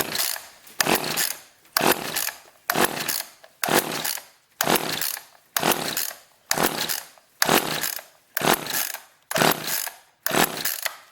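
An Echo 280E chainsaw with a suspected carburetor problem is pull-started again and again without firing, giving about a dozen evenly spaced rasping recoil-cord pulls, each a short loud whirr followed by a brief gap, close up with no talking.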